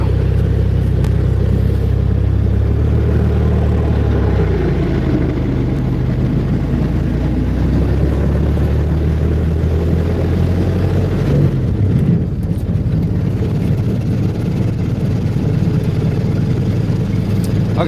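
A Flivver car engine pulls at full throttle up a small hill toward town on a gravel road, a loud, steady low drone that rises and shifts in pitch as it climbs, continuous and close throughout.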